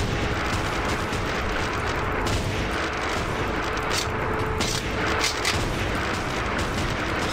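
Rifle gunfire in a video game: dense, continuous volleys of shots and booming blasts, loud and unbroken throughout, like a busy battlefield with many weapons firing at once.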